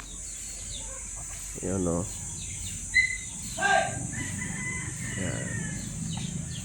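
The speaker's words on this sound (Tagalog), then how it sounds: "So umalis na yung mga manok. Nag-aalisan na." Backyard chickens clucking and calling as they leave their coop, a few short separate vocalizations over a steady high insect-like hum, with a person speaking quietly nearby.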